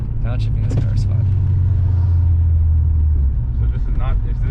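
A 1998 BMW M3 with an aftermarket catback exhaust rumbles loudly and steadily from inside the cabin, its low engine drone holding through a downshift, with brief voices talking over it.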